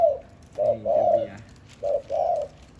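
A dove coos in two short phrases, a soft low hoo followed by longer mellow notes, then a pause and another similar call, fairly close and clear.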